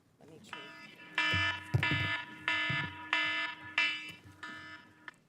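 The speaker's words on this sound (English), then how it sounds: "That's the alarm sounding." A loud electronic alarm blares in five repeated pulses of about half a second each, with harsh buzzing tones, under faint background voices.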